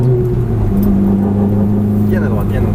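A car engine hums steadily and rises as it accelerates, heard from inside the vehicle with a constant low drone.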